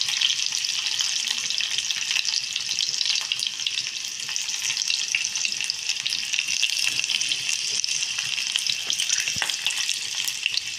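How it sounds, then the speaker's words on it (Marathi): Seven or eight garlic cloves sizzle steadily in three or four spoons of hot oil in a heated pan. The frying is close, even and unbroken, a bright hiss throughout with no talk. "तेल गरम झालेलं आहे, त्याच्यात मी ह्या 7-8 पाकळ्या लसूणच्या टाकत आहे।"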